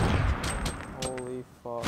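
Video game gunfire in a duos battle royale match: a few quick shots near the start, with a person talking over them and electronic game tones.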